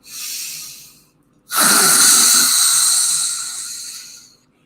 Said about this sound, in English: exhale out the mouth, protruding the tongue, opening the throat